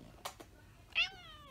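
A single short cat meow, close and fairly clear, following a couple of faint clicks in a quiet room.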